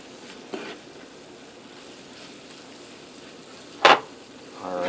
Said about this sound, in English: You just want to mix your spices in good.